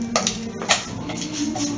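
Pumpkin jam is stirred in a cooking pot, with a spoon scraping and clinking against the pot in a few uneven strokes over a steady low background hum.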